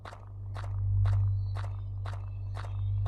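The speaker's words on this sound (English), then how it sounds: "why do I still hear footsteps?" Footsteps in the video game Red Lake fall in a slow, even rhythm, six distinct crunching steps over a constant low droning hum.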